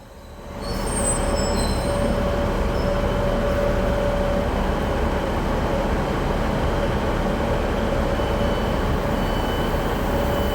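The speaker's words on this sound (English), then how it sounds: "And now let's take a look at the same Class 156 departing Sunderland Station, heading west to Hexham." A Northern Class 156 diesel multiple unit pulls out of Sunderland Station, heading west toward Hexham, with a steady, close rumble of engine and wheels and a faint sustained tone running beneath it.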